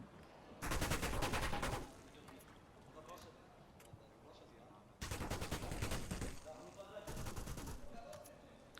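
Rifle gunfire in a professional Counter-Strike match on the Anubis map at IEM Katowice 2023, with two loud sustained automatic bursts and a shorter third burst, alternating with quieter stretches of game ambience.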